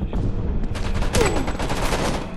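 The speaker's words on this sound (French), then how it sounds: "Je tire." Gunfire in the video game Homefront: The Revolution comes as a loud, close burst of rapid shots in a dense rattling fusillade lasting a couple of seconds.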